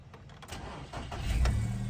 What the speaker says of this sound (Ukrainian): Автомобіль заводиться з півтику, не димить, не троїть